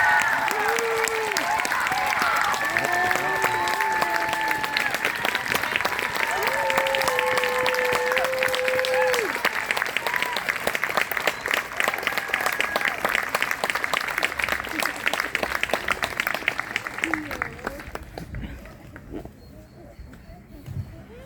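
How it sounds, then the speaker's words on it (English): A concert audience applauds at length, dense continuous clapping over about seventeen seconds with sustained tones and voices beneath, before it thins out and dies away near the end. "Or you can applaud the entire time she comes down."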